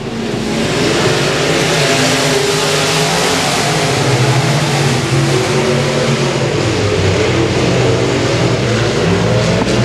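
Race cars pulling away to start a heat at Boothill Speedway, a dense, loud wall of engine roar and revving that holds steady throughout with no talk.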